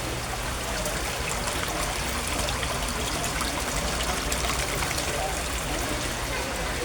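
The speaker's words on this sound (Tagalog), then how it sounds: "ipiplex ko ang submersible pump ko guys. Ang lakas-lakas niya pero ang tipid-tipid niya sa kuryente." A submersible pump churning water and bubbles in a koi pond, a constant close rushing trickle with no break, while a voice talks over it.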